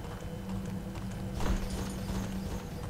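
Many heavy footsteps of approaching legionnaires in the dungeon game Legend of Grimrock, a steady, dense clatter of treads with a low droning hum underneath, growing slightly louder midway.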